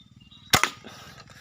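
A handmade slingshot is test-fired before shipping: one sharp snapping crack with a quick second impact right after, loud and close over a soft rhythmic background hum.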